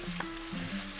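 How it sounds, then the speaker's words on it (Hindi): Chopped tomato pieces frying in a pan over a medium gas flame for an aloo shimla mirch sabzi, a quiet, steady sizzle with faint stirring and a low hum running through the short stretch. "भूनेंगे टमाटर डालकर"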